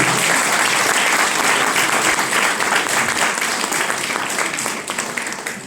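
Loud, dense applause from a large audience honouring an achiever at a Tamil Nadu public event, sustained and close, with the clapping tapering slightly toward the end.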